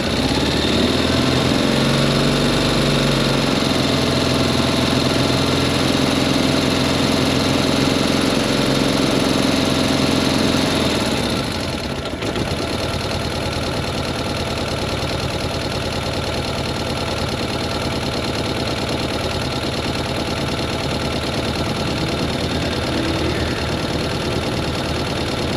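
A round-the-world touring motorcycle with sidecar runs its engine steadily near at hand, loud and continuous; the pitch and load shift about halfway through as the throttle changes, then it settles into a steady drone.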